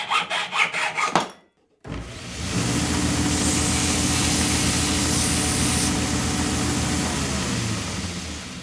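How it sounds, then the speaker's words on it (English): A hacksaw cuts through the end of a stick: a few quick rough strokes, a brief pause, then a long run of fast, even rasping strokes close up. "I'm just going to trim the end off with my hacksaw"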